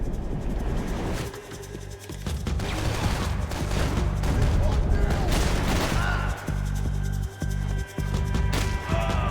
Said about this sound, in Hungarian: mintha lövést hallottam volna